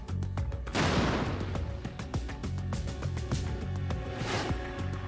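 Shaped charge explosions in an armor test of the Merkava Mk 4 tank, heavy booming blasts with a loud burst near the start and another later, rumbling debris and crackling in between.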